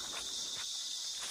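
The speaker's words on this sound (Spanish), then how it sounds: "Tolín, en este tiempo hay mucha chicharra" Cicadas in the countryside of Palo Blanco, Puerto Plata, droning in a continuous high, dense buzz that stays even and prominent throughout, with no talking.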